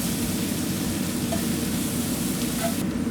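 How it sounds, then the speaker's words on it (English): Sausages and onions browning in a cast iron pan give a steady, dense sizzle that holds evenly throughout with no talking. "as the sausages are browning, then I'm going to add some of the onions."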